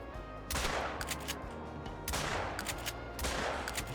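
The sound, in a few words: shotgun shot in video game theHunter: Call of the Wild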